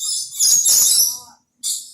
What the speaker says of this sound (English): We call it lorikeet.